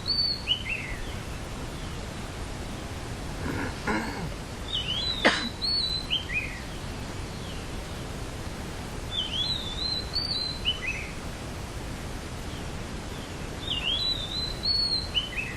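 Birds chirping and singing in repeated short bursts at a moderate distance, over a steady low background rumble, with one sharp click partway through.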